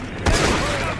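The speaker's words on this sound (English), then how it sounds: "Drop the damn smoke bomb!" A smoke bomb drops in Assassin's Creed Unity, landing as a sudden muffled burst followed by a broad hissing spread that lingers over a busy crowd and battle din.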